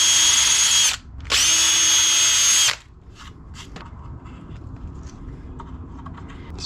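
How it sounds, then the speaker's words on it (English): A power drill pre-drills wood for a folding sawhorse in two loud, close, high whining bursts of about one and one and a half seconds, followed by quieter handling and knocking sounds. "And we can go ahead and pre-drill."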